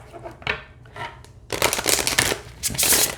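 A 32-card oracle deck being shuffled up close, a few soft riffles at first, then a louder, continuous rapid riffling flutter.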